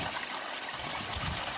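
A koi pond skimmer runs outdoors, keeping water in a continuous close trickle and splash, steady and fairly quiet with no talking.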